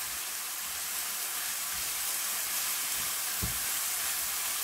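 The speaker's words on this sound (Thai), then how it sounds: "ป้าก็จะใส่น้ำลงไปนะคะสักนิดนะคะเพื่อให้หมูเขาสุกหรือว่าไม่ให้น้ำพริกของเราเขาแห้งเกินไปนะคะ" Pork frying with chili paste in a pan gives off a steady, even sizzle and hiss as water is added, with a few soft low knocks from the pan; no one speaks.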